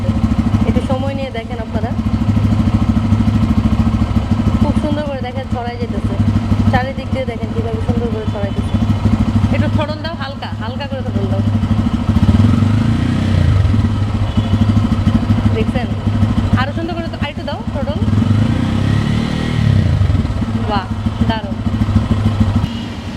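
A Bajaj Pulsar N250 motorcycle engine runs steadily at idle throughout, a low continuous rumble with mechanical clatter, while people talk over it at intervals.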